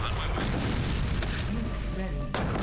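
Gates are blown apart in the strategy game Command & Conquer: Tiberian Sun. Dense, rumbling explosion noise fills the whole stretch, with a couple of sharper bursts standing out near the end.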